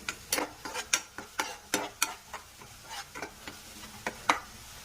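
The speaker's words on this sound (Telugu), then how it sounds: "మనం ఇందులో పసుపు వేసిన తర్వాత మంచిగా మిక్స్ చేసుకోవాలి." A spoon stirs turmeric into hot oil in a pan for fish curry, giving a string of quick scraping, clinking strokes in an uneven rhythm over a faint sizzle, close and fairly quiet.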